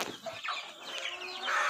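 A hen clucks on a desi free-range poultry farm in Hyderabad, giving a close run of throaty clucks and short squawks, with other fowl faintly around.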